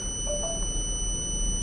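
Buzzer alert of an Arduino UNO automatic railway gate system with servo-driven gates, a faint, continuous electronic tone held steady over a low background hum.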